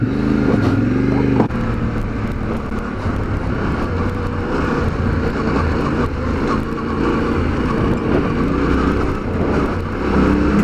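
A 2020 Yamaha Ténéré 700 adventure bike ridden steadily with its engine droning loudly and continuously close by, plus wind rush and some throttle variation.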